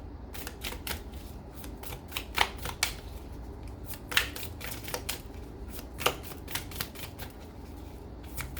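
Tarot cards being shuffled in a quiet room, a steady run of crisp papery riffles and flicks with a few sharper slaps, fairly close and alone without talk.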